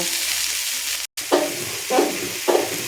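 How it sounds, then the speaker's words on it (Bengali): Green peas, cashews and raisins fry in hot oil for vegetarian khichdi, a steady sizzle broken by three stirring scrapes spaced about half a second apart, close and clear with no talk. "আর দিয়ে দিচ্ছি মটরশুঁটি আর কিছু ড্রাই ফ্রুট কাজু আর কিশমিশ তো সবগুলোকে এখানে দিয়ে একটু নাড়াচাড়া করে এগুলোকে একটু ভেজে নেব"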